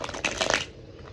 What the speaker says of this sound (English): we'll just shuffle that out and see what happens